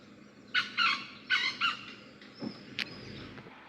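A jungle fowl calls in a few loud, clipped bursts, followed by a thinner call and a sharp note, close by in quiet surroundings in Mudumalai forest.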